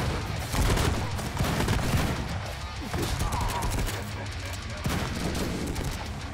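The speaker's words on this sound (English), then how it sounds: "I'm too close to hit people with this machine gun." A minigun fires in Madness: Project Nexus, with a dense, rapid rattle of gunfire running through the whole stretch and a few harder booms.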